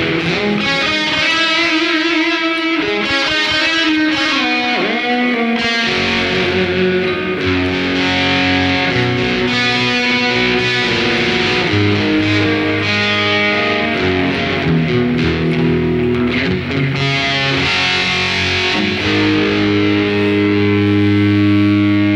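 High-gain distorted electric guitar through a Boss eBand JS-10 amp model, playing 80's heavy metal lines with loud, sustained, echo-tinged notes and dense chords throughout.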